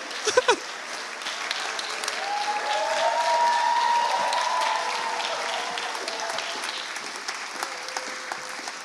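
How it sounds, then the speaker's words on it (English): Audience applause greets a mission team coming on stage at a 2018 Ethiopia mission review event, a steady round of clapping that builds to a peak and fades, with voices and a few cheers mixed in and sharp claps near the start. "So give them a round of applause"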